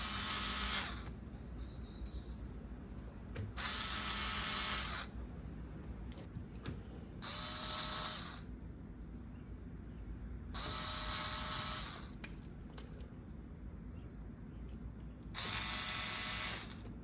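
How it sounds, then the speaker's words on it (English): A small electric drill boring into furniture hardware while repainting Pottery Barn furniture, running in five short whirring bursts of about one to two seconds each, close and loud, separated by quieter gaps with a low steady background hum. "I'm going to drill just a little bit further in"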